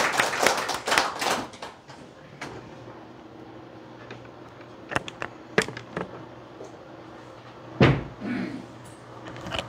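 A lecture audience briefly claps to welcome former Saenuri Party emergency committee chair Kim Byung-joon. A short dense burst fades within seconds into scattered single claps, knocks and thumps in a quiet hall.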